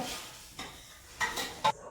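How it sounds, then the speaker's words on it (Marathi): Semolina is stirred into boiling sugar syrup for sheera. A spoon makes three short, soft scraping strokes against the pot over a quiet simmering background. "चमच्यानं सगळीकडे असं फिरून घ्यायचं"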